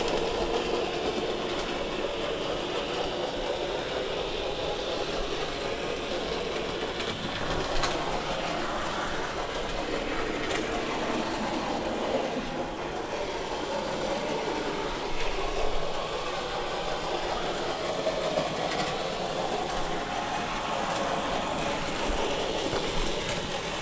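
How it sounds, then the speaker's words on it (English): A Dapol SR Q1 Class model steam locomotive running around a model railway layout: a continuous close mechanical whirr with faint rhythmic wheel clatter, steady and unbroken throughout. "Even though sometimes Dapol steam locomotives do tend to be a bit unreliable at times, they are quieter than Ferris ones."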